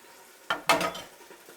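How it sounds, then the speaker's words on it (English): Meat dropped into a hot pan, a sudden loud sizzle flaring up after a soft clunk, then a steady hiss fading slightly, close and with no talking. "we'll put some meat in the pan, because that's nice and hot now"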